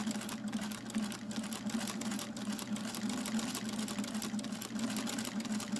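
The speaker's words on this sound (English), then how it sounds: "And then I just quilt along that seam." A Singer Featherweight sewing machine quilting along a seam with a walking foot, running steadily and continuously at close range with a fast, even mechanical chatter and no pauses.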